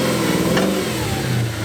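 An Audi RS4 engine runs with a steady, rough mid-low drone, close and loud, with no one talking over it.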